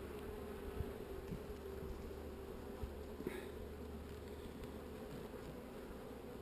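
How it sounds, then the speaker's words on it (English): Agitated honeybees in a top bar hive buzz steadily as a soft, dense hum. A few faint knocks sound underneath. "These are just bees that are against me being in the hive."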